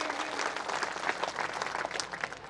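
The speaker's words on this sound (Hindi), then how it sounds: "एक बार सभी तालियों से भाव जी का स्वागत करेंगे" Applause from an audience at a Devasi community gathering welcoming a guest, a steady dense wash of many hands clapping throughout, fairly loud and sustained without a break.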